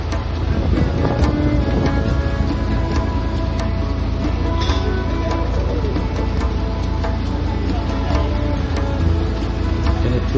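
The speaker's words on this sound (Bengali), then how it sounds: "প্রচন্ড হাওয়া।" Strong wind at an outdoor hilsa fish festival in the Sundarbans, a loud, steady roar that buffets the microphone for the whole stretch, with faint boat and water sounds beneath it.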